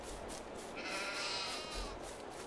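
A single sheep bleats in a farming video game, a brief wavering cry rising out of a steady background wash of game ambience, moderately quiet.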